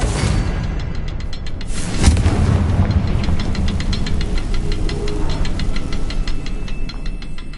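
A Confringo blasting spell cast in a Harry Potter–style video game, a loud burst of explosive booms and rumbling impacts with a sharp crack near the start, followed by a rapid train of crackling pulses.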